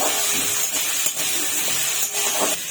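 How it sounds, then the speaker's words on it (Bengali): Potatoes frying in hot oil tempered with asafoetida, dry red chilli and bay leaf give a steady, close, hissing sizzle that holds at an even level throughout, with no talk. "আলুটা ভালো করে ভেজে নেব।"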